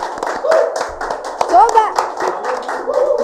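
A small audience claps at a stand-up comedy podcast in Kupang, quick uneven claps set against continuous talk and laughter close by.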